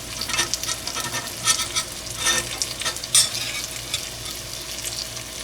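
Egg tofu sizzles in a stainless steel pan, a soft steady frying crackle broken by a few louder scraping stirs and spatters as pieces are turned.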